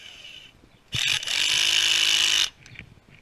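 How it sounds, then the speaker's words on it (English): A powerful, slow cordless drill whirs for about a second and a half as it drives a 7mm hex bolt, a loud close burst with a brief start-up stutter, surrounded by quiet handling noise. "I'm actually going to use my drill."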